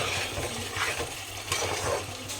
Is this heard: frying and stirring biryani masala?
yes